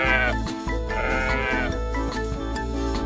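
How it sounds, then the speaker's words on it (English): Sheep grazing in a pasture bleat loudly and repeatedly, several overlapping wavering calls close by, filling the whole stretch. "their gentle bleats filling the air"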